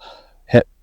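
A voice imitates heavy breathing after running, a few short, loud, panting breaths close to the listener.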